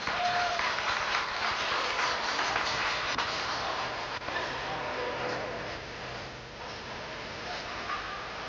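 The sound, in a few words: audience applause at a fashion show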